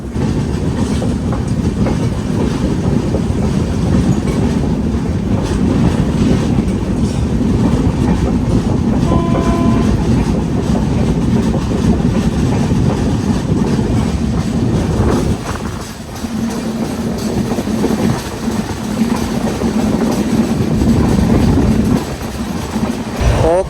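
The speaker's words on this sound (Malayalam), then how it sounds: "എറണാകുളം എക്സ്പ്രസ് ആയിട്ട് നമ്മളിപ്പോൾ ക്രോസിംഗ് നടത്താൻ പോവാണ്." A train runs along the Konkan railway during the monsoon, a loud continuous rumble with rhythmic clickety-clack of wheels over rail joints that dips briefly midway as it crosses another express, with faint talk underneath.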